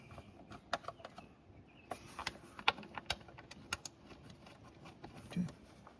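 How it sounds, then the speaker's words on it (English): Ratchet working on bolts of a Honda CR-V engine cover during a spark plug change, heard as quiet, irregular clicking bursts with sharp metallic ticks scattered over a faint background hiss. "We can get the old ratchet out again"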